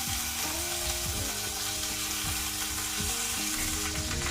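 Chopped garlic frying with whole cardamom, cloves and peppercorns on a gas stove for mushroom rice, a constant dense sizzle with faint clinking under a steady background hum, no voices.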